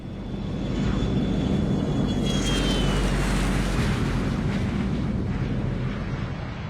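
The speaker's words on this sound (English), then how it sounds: "The Gulfstream 4 is typically a business jet, but this one is reconfigured." A Gulfstream 4 jet reconfigured as a hurricane hunter aircraft flies past with a steady, loud, broadband engine roar that swells and holds for several seconds, plus a faint whine drifting downward, with no voices.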